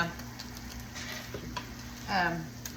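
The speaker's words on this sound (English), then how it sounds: "we got us a nice little sear going on with this" Pulled pork searing in a hot pan makes a soft, close sizzle for a few seconds, with brief stirring noises and a short voice-like sound near the end.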